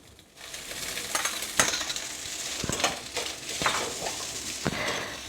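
Idiyappam and fried egg being stirred in a hot pan, with a steady sizzle under repeated scraping spoon strokes and occasional sharp clinks of utensil against metal.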